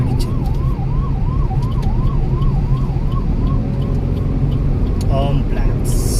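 Ambulance siren wailing in a rising-falling pattern as it passes on a city road in Berhampur, heard over steady road and engine noise; the wail fades partway through, and a brief horn sounds near the end.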